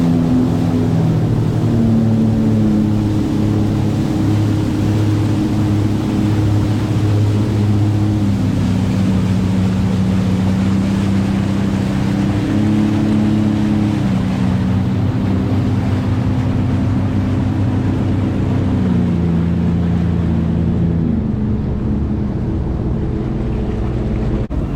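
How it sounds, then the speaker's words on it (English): Jet skis being launched and ridden on a river near Crystal River, Florida, heading toward the Gulf: a steady, loud engine drone with shifting pitch and heavy wind buffeting throughout. "we are about to load up, about to drop the skis into the river here"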